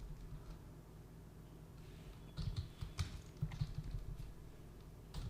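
Computer keyboard typing while JavaScript code is entered: soft, irregular key taps that start after about two seconds of quiet and come in scattered clusters, fairly close, over a low background hum.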